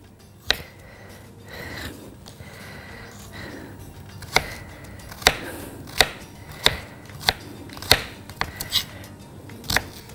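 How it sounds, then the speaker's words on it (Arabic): A knife chops an onion into thin slices on a board for a chicken pizza, making close, sharp strikes that start sparse, then settle into a steady rhythm of about ten crisp chops. "البصل يفضل يتقطع رفيع قوي"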